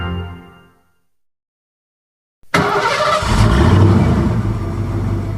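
A car engine effect from a sound library: a fading tone drops into about a second of silence, then an engine bursts in abruptly with a loud revving roar that holds steady and close to the end.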